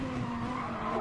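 A race car in a driving video game brakes hard for the first turn at Spa, its engine droning loud and steady under a continuous tire squeal and skid.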